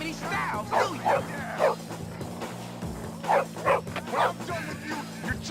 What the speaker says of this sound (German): Nein, schon wieder der Hund.